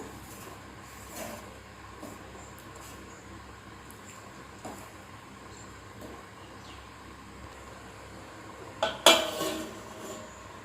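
Prawn dum biryani being gently mixed in a pot over a low flame: faint, sparse scrapes and clinks of a utensil against the pot, with a louder metallic clatter near the end.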